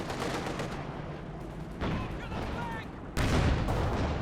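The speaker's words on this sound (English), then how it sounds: "Panzer IV using the heat rounds here, guaranteeing the penetration" Panzer IV tank firing HEAT rounds in a World War II strategy video game, with loud booming shots and dense gunfire echoing over a steady battle din, while a commentator talks over it.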